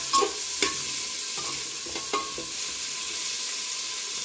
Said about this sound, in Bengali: আবারও ভালো করে আমি একটু নেড়ে নেব।